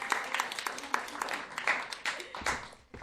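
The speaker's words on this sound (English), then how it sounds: "Give a round of applause." Audience at a town hall applauds, a fairly faint patter of scattered clapping that fades and then swells slightly over about three seconds.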